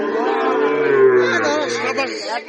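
Sahiwal cattle at a market in Joypurhat, with a long low moo running through the clip, close and loud, while people talk and bargain around it.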